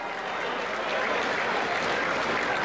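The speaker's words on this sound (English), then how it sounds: "Give him a round of applause" A crowd at the 2016 Pig N Ford Races applauds a cowboy-hatted driver, a loud, dense, continuous wash of clapping that swells slightly and holds steady from start to end.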